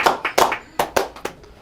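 Scattered, uneven hand claps from a small audience after a street hypnosis show, a few sharp close claps spaced irregularly and fading out.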